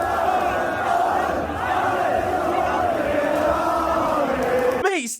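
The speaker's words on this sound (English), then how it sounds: "There were huge crowds on the streets of Glasgow as Celtic fans celebrated." Huge crowds of Celtic football fans celebrating in the streets of Glasgow, a dense roar of many voices chanting and cheering, steady and loud before cutting off abruptly.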